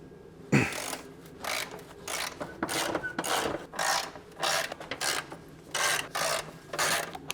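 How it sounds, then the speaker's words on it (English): Subframe and cross member bolts being undone on a BMW E39 M5, a run of repeated rasping ratchet strokes in short bursts with brief pauses, close and clear. "You can start unbolting the subframe and the cross member."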